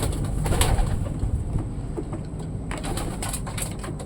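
Racing pigeons coo softly and steadily against a dense outdoor background, with other bird calls mixed in and no talking.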